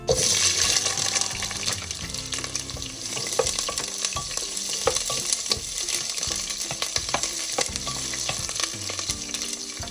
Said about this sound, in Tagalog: So now I'm going to saute the garlic, onion first.